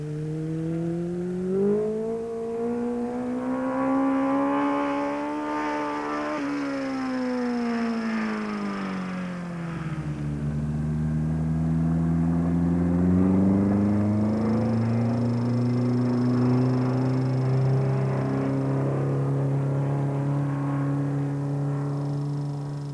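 A Yamaha FZR 1000 motorcycle ridden in a stunt show with riders on and behind it, engine tone rising and falling in long sweeping revs, loud and fairly close, with no talk over it.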